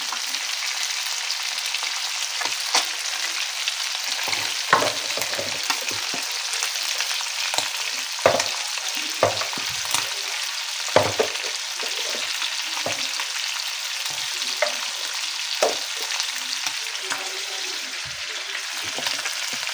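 Spices frying in hot oil with already-fried fish for fish curry, a steady dense sizzle throughout with scattered crackles and pops, close and fairly loud, no talking.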